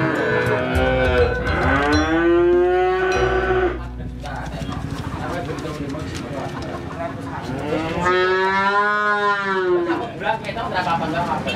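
Cattle in a calf seller's pen give two long, loud, close moos several seconds apart, with pen noise and people talking in between.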